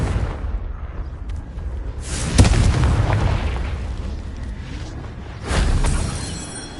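Two booming Confringo fire-spell blasts go off in the video game Hogwarts Legacy, each a sudden loud explosion over rumbling battle noise, a few seconds apart.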